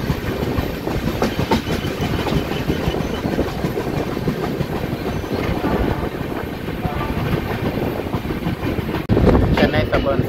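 A packed Chennai suburban local train rumbles along the tracks in a dense, continuous roar with rhythmic clatter, heard from inside the carriage amid a faint murmur of passengers.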